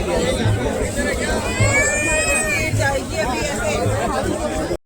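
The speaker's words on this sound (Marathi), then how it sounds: "इथे किती गर्दी आहे, 4 वाजता मंदिर ओपन होणार आहे त्यामुळे एवढी गर्दी" A dense crowd waits outside the Khatu Shyam temple in Rajasthan, a constant babble of many voices close around with overlapping chatter and no single speaker standing out.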